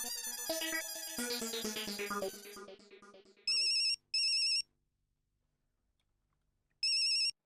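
A melodic phone ringtone plays, then cuts off, followed by a few short electronic beeping bursts separated by silence.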